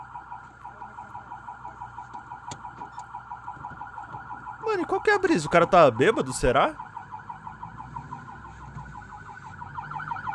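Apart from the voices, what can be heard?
emergency vehicle siren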